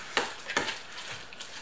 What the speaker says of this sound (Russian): Вилочкой или венчиком можно перемешать это все дело.